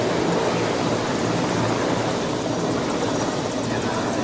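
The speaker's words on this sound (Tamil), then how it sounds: "கேரள மாநிலம் திருவனந்தபுரத்திலிருந்து ஹெலிகாப்டர் மூலமாக கன்னியாகுமரிக்கு பிரதமர் நரேந்திர மோடி வந்திருக்கிறார்." A helicopter arriving in Kanyakumari makes a steady, loud broadband roar of rotor and engine noise that fills the air continuously with no pauses.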